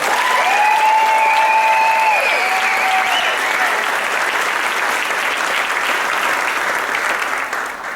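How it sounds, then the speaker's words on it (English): Wedding guests at a ceremony break into loud, sustained applause, a dense crowd of clapping hands with a few whoops, holding strong throughout and easing slightly at the end. "Let's give one more big round of applause for Mike and Val."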